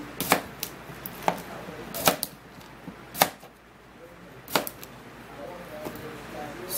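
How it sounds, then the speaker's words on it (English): A knife cuts through cucumber on a cutting board with about six crisp, separate chops at an uneven pace, close up, with faint kitchen background noise. "now we're going to be cutting just a little bit of the cucumber."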